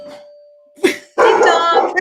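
A doorbell chimes with a sustained tone, then a dog barks sharply and loudly close by, overlapping the end of the ring.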